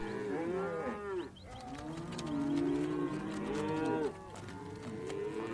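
Cattle low and bellow repeatedly while being worked for branding at the Gray Ranch, with several loud, overlapping moos close by and no talking.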